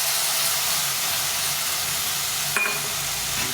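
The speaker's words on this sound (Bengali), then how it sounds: "দিয়ে ভালো করে কষিয়ে নিই।" Ground ginger, cumin and chili paste fries in a pan with softened potatoes, giving a constant close hissing sizzle, with a brief scrape of stirring partway through.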